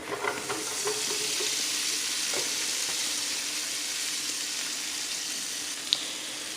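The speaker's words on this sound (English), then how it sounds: "I have my skillet here that I have preheating. Heating up. I'm just going to put my green beans in here" Green beans sautéing in a preheated hot skillet give off a steady, loud sizzle that lasts the whole time, with a few faint stirring scrapes and one sharp clink near the end.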